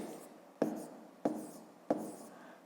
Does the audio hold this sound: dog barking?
no